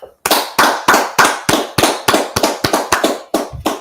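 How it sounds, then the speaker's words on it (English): About a dozen sharp, evenly spaced claps ring out loud and close, one after another in a steady beat, with no voices over them. "All right, let's clap it up."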